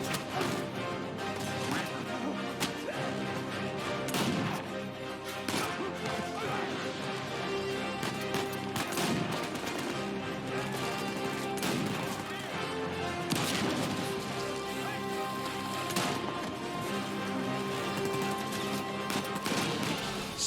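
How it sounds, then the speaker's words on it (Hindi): Gunfire and shootouts in the video game Uncharted 4: repeated sharp shots and crashes over a dense, busy game soundscape with music, steady and fairly quiet throughout. "और फिर होती है गोलियों की रासलीला"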